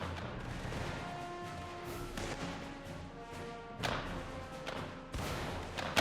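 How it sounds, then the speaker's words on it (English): A Hall carbine, a black powder firearm in Mount & Blade Warband's American Civil War setting, fires sharp loud shots, with one strong report near four seconds and another near five, over a steady rumbling battlefield background. "Definitely still a black powder firearm though"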